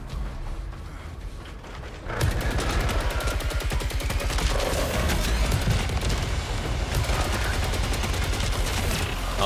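A gun fires in the video game Saros in a rapid, evenly spaced stream of shots that starts suddenly after a quieter couple of seconds and stays loud and continuous over a low rumble to the end.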